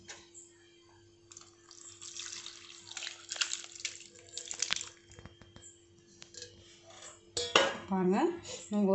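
Curdled milk poured into a cloth strainer for homemade paneer, heard as clinking of pots and utensils and a splashing liquid pour that grows louder toward the end, close up in a quiet kitchen.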